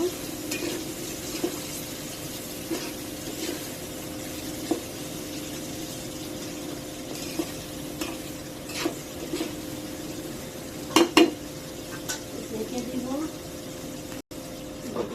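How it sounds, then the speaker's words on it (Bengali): Spices and garlic paste stir-fried in a pan for a fish curry: a faint, steady sizzle with occasional spoon scrapes and clinks throughout, fairly quiet, with a low background hum. "এখন ভাজা ভাজা করে নিব।"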